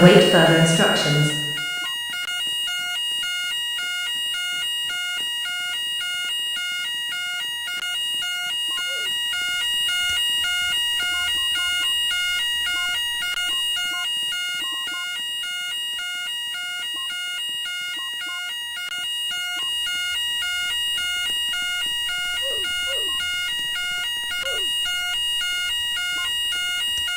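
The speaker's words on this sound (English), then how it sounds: "Attention please, the fire alarm has been activated." A store fire alarm sounds repeated high electronic beeping pulses in a steady rhythm for the whole stretch, with a recorded evacuation announcement faintly beneath, after a short louder burst at the start.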